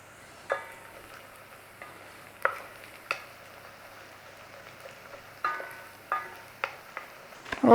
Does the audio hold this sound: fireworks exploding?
no